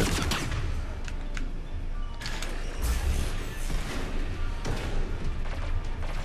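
Sustained, dense gunfire and clanking combat noise from Mass Effect 3, loud and continuous throughout with bursts of shots layered over mechanical rumble.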